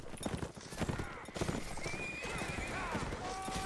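Horses clip-clop and whinny in a Mount & Blade Napoleonic Wars line battle, hooves pounding rapidly in a dense, close cluster with a drawn-out neigh rising over them while voices talk underneath.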